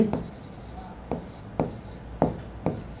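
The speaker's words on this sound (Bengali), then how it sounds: "আমি একটু ছোট করে লিখি যেন বুঝতে সুবিধা হয়" A pen scratches across paper in about five quick bursts of strokes while a date is handwritten during an accounting lesson. The strokes are close and soft, with a quiet room behind them.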